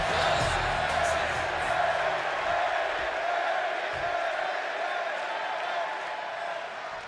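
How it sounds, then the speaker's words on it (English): In WWE 2K26, an arena crowd in Chicago roars at a wrestling match, a broad steady swell of cheering that gradually fades, with no talk. "And just listen to this crowd here in Chicago."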